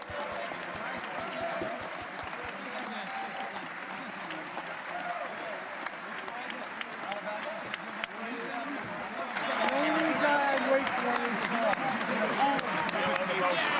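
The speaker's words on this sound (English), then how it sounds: "Everyone clap for the president." Members of Congress applauding the president's entrance at a joint session, sustained dense clapping in a large chamber that swells louder near the end, with voices talking over it.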